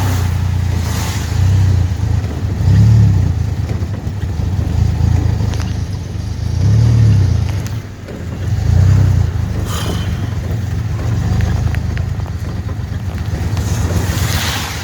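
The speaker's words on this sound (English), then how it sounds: "my truck ain't running very good because it got wet" A pickup truck running poorly while driving in the rain, heard as a steady low engine drone with wet road and rain noise, swelling and easing in slow surges.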